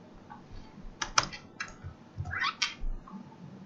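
Typing on a computer keyboard at a desk, a few quick clustered key clicks in short bursts over a low background hum, with a cat's meow also heard.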